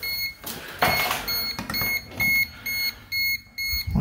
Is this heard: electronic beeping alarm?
yes